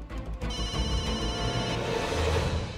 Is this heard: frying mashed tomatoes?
no